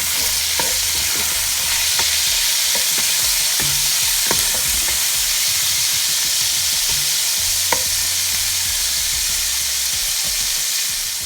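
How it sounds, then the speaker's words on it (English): Pieces of cured Toloo beef fry in hot oil with a loud, continuous close-up sizzle, scattered crackles and occasional stirring scrapes throughout, no talk. "I'm going to put that into the oil, fry it a bit"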